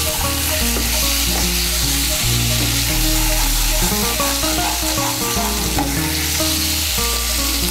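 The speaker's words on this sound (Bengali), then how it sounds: "নুন আর চিনিটাকে ভালো করে মিশিয়ে নেব।" Salt and sugar are stirred into aloo paneer dalna, a vegetarian Bengali curry, in a hot pan: a steady, close sizzle of frying with spoon scrapes and stirring throughout, no voices.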